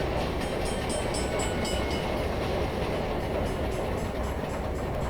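Locomotive engine of a DW AS-616 diesel in Train Simulator Classic, a loud, steady rumbling drone with rail noise that runs unbroken throughout.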